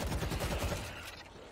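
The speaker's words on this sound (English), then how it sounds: "all the AI are shooting in one direction, and you're the only one shooting in the other direction" Rapid bursts of automatic gunfire from AI teammates in the zombie shooter World War Z, dense overlapping shots that taper off and grow quieter toward the end, with no voices.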